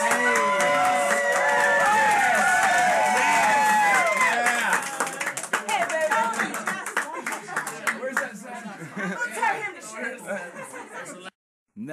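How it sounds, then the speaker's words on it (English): A radio roadshow crowd claps for a performer named Alexis, steady applause with chuckles that thins out toward the end and cuts off abruptly, with voices talking over it. "Give a round of applause for Alexis,"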